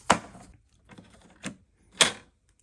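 Sheets of paper being set into the input tray of an HP DeskJet 2755e inkjet printer, heard as three separate close, crisp rustling and tapping bursts with short quiet gaps between them.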